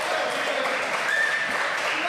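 A crowd at a Brazilian jiu-jitsu grappling team match cheers excitedly, making a steady broad roar that fills the space with no clear breaks.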